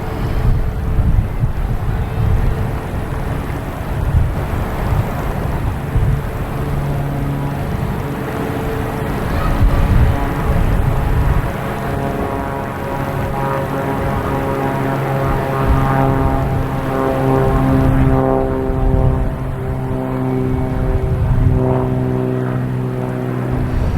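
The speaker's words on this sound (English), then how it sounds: "we have JetBlue, an A220 heading to Detroit, flight 1337" A JetBlue Airbus A220 airliner bound for Detroit passes at Boston Logan Airport, a loud steady engine drone with rising and falling tonal whine and wind buffeting, sustained throughout without talk.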